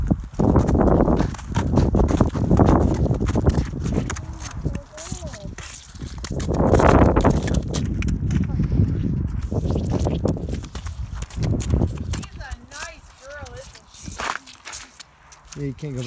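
A horse walks along on a mother-and-child ride, its hooves clip-clopping in an uneven rhythm close by while adults talk over the steps.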